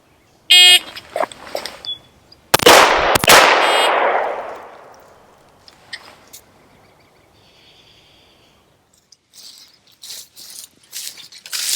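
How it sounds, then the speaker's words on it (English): Two sharp, loud shots from a Browning Hi Power P35 pistol, fired in quick succession at a target 25 yards away, each cracking hard and trailing off in a reverberant decay, with faint clicks and handling noises afterward. "From here, on the signal to fire, I fire 2 shots in a time limit of 4 seconds"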